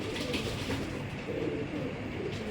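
Racing pigeons coo softly in low, repeated throaty calls, close and continuous in a loft, with no talk over them.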